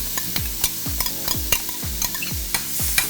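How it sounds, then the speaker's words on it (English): Spatula strokes scrape rhythmically about twice a second as onion and spinach sauté in hot butter over a high flame, the sizzle soft beneath the clear repeated scraping and no voices. "Because you want the onion to saute real quick, and then you get a flavor from the onion."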